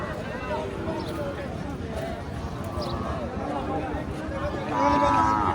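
Cattle mooing at a busy livestock market amid crowd chatter, with several low moos rising near and far over steady talk and a louder call toward the end.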